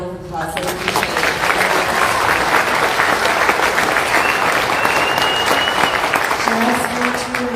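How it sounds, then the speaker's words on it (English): An audience at a mayoral candidate forum breaks into loud, sustained applause, dense clapping that holds steady for several seconds and then begins to taper. "Again, let's give them a round of applause."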